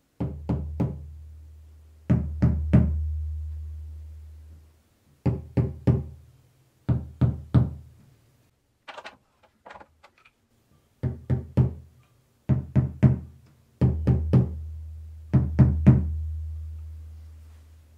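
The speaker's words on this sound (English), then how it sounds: "you can do that and just kind of tap around where each lug is" Small marching bass drum head tapped around each lug, heard alone and close: clusters of two or three resonant booming knocks with low ringing decay, separated by brief pauses, with a few lighter taps near the middle.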